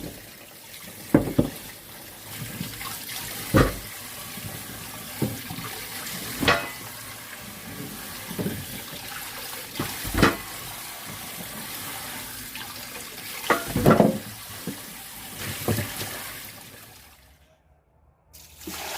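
Korean hanwoo beef bones are rinsed in cold water, with intermittent splashes, sloshing and clunks of bones spread over a quiet stretch, ending in a brief near-silence.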